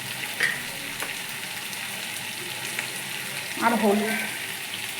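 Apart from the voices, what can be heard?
frying mutton curry with spices in a pan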